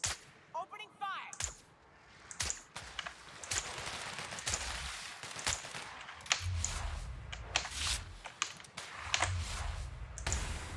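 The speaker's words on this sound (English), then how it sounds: "Opening fire!" Gunfire in The Outer Worlds comes in sharp, irregular cracks and short bursts against mantiqueens, with heavier thuds in the second half and a brief voice near the start.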